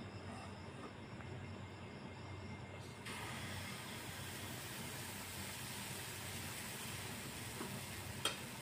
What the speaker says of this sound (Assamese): এতিয়া পেনত দি দিম সেই চামুচেৰে বেটাৰ লৈ আছোঁ।